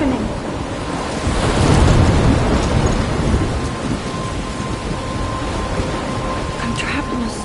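A thunderstorm in the video game Life is Strange, with steady heavy rain and rumbling thunder swelling near the start, then continuing as a dense wash of downpour with no talk.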